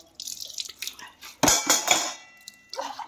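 Utensils being scrubbed and washed by hand, outdoors in light sunshine: a run of close clinks and scrapes of metal dishes, with a louder clattering burst in the middle and dripping water between.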